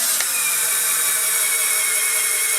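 A cheap cordless drill drives a screw with a steady, high-pitched motor whine, close and continuous, heard alone for a couple of seconds.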